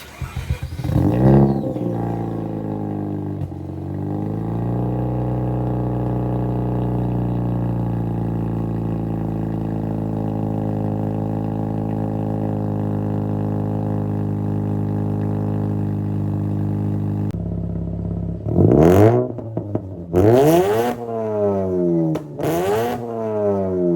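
A Mazda RX-8 rotary engine with an HKS exhaust drones at a steady, buzzing idle after a brief blip, then snaps through several sharp, rising and falling revs near the end, loud and close.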